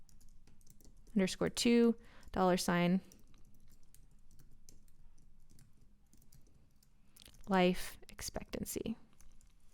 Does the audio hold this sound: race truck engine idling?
no